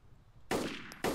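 Two sharp gunshots from the survival video game DayZ, each a sudden loud burst with a brief tail, the second coming about half a second after the first, standing alone with no talk.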